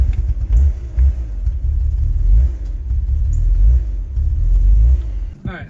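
A BMW E46 engine with a vacuum leak is held at full throttle yet barely responds, giving a loud, low, uneven rumble that never climbs into a proper rev, with a voice speaking over it.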